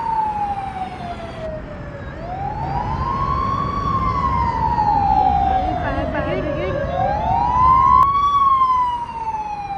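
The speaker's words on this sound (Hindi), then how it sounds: "फायर ब्रिगेड भी आ रही है." A fire engine's wailing siren rises and falls in long, slow sweeps, fairly close and loud over a low traffic rumble.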